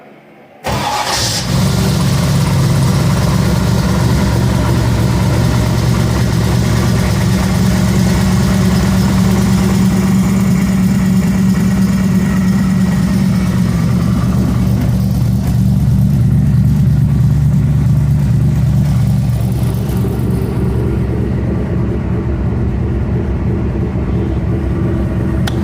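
A 560 hp 408 Windsor V8 fed by 48 IDA Weber carburetors cranks and catches from dead cold, then settles into a loud, steady, lumpy idle that eases slightly in pitch toward the end.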